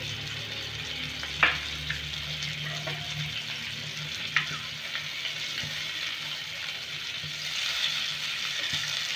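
Boiled eggs fry lightly in a little oil in a pan, giving a steady soft sizzle with a few sharp clicks of the eggs being moved, and no talking.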